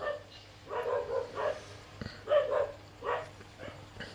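A dog barking outside, a bit distant and muffled, in a series of separate barks at irregular intervals over a low steady hum, with no talking.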